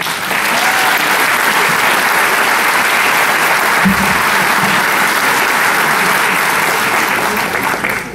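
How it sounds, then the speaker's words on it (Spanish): A crowd at a university tuna concert of Ayacucho huaynos gives a loud, dense, continuous burst of applause that holds evenly throughout. "para quien pide un fuerte voto de aplauso"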